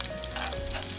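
Scallions and ginger hit hot oil in a pan for Singapore frog porridge, giving a brief, close, steady sizzle and hiss with no talking.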